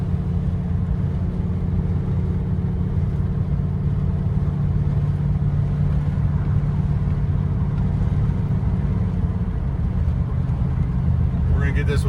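A 1969 Shelby GT500 convertible with a 428 Cobra Jet V8 cruising with the top down, its low engine rumble and road noise steady and close, rising briefly near the end.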